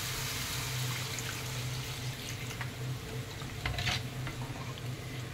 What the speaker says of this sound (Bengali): এখন গ্রেভির জন্য একটু জল দিয়ে দেবো